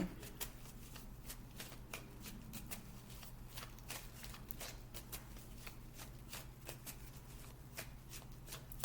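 A deck of tarot cards being shuffled by hand, a quick, continuous run of soft riffling flicks and slaps, close but quiet over a low steady hum, with no talking.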